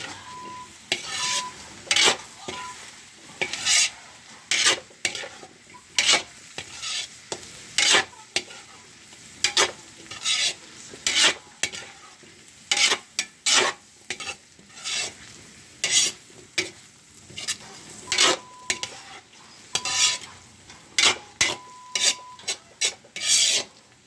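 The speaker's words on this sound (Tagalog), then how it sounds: "Siyempre, konting halo." Pancit bihon ingredients such as carrots, kikiam and squid balls being stirred in a pan, repeated scraping and rasping strokes in an uneven rhythm over a soft sizzle, close and with no voices.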